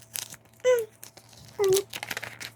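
A paper envelope holding a gift certificate is opened up close with bursts of crinkling and tearing, broken by two short tonal vocal sounds and faint voices in the background.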